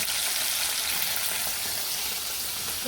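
Fish fries in a pan on a simple Bangladeshi village stove, giving a steady, close sizzle and crackle of hot oil that keeps going evenly without pause.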